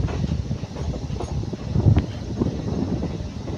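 A DEMU local train pulling into Manoharabad station with a continuous heavy rumble and rolling rattle that stays close and fairly loud, no speech over it.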